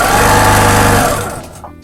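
A sewing machine stitches a quilt seam in a short, loud, rapid mechanical run that slows and stops after about a second and a half.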